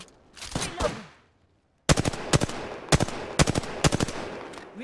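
Bursts of automatic gunfire from Apex Legends, an opening rattle followed by a brief silence, then repeated loud, sharp volleys of rapid shots in quick clusters.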